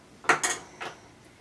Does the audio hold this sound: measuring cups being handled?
yes